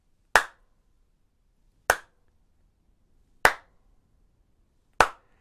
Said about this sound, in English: we're going to use the first piece of body percussion,